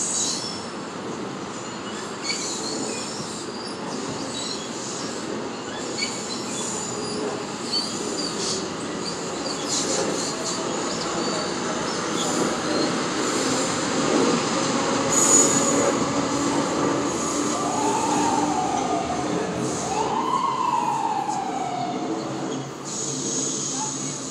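Passenger train rolling past on a line toward Trenton, a loud continuous rumble with wheel squeal and rail clatter, while station announcements play faintly over it.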